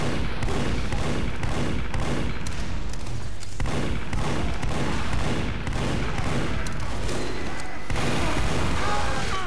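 Spy firing his weapon in an old-school team shooter game, rapid repeated shots and booming impacts amid dense battle noise, loud and continuous with an explosion-like burst near the end.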